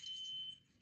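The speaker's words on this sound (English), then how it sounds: "that sounds like a fire alarm" A fire alarm sounds as a thin, faint, steady high-pitched beep lasting about half a second, then cuts off.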